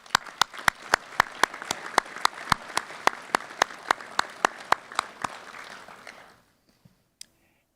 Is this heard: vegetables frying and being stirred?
no